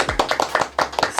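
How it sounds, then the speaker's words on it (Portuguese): A short burst of applause in a podcast studio, a few people clapping briefly and unevenly close by, with the individual claps clearly separated. "Uma salva de palmas para ele."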